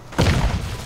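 A grenade in the shooter game Crysis goes off in a single close, heavy, low boom that swells and then rumbles away within a second.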